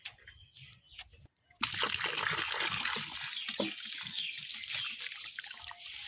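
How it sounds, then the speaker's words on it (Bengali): Water poured onto a transplanted black plum tree starts as a short trickle after a brief pause, then becomes a steady, fairly loud splashing rush that lasts to the end. "এই যে জল দেওয়া হলো আগে, তাহলে গাছটা একদম ঠিকঠাক থাকবে যদি আগে জল দেওয়া হয়।"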